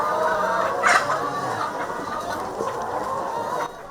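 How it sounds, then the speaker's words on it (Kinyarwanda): Chickens cluck steadily inside a poultry house holding over a thousand birds layered into a busy, continuous chatter, with one louder squawk near the start, then the din drops away at the end. "Aha ni mu kiraro cy'inkoko zisaga 1000."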